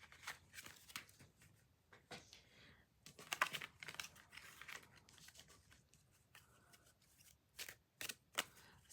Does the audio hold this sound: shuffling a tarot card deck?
yes